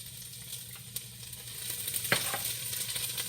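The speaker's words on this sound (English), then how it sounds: "So now I'm going to take my garlic, medium-high heat, and drop it right in there." Garlic dropped into a hot pan over medium-high heat sizzles steadily and close by, with a sharp crackle swelling about two-thirds through as it hits the oil.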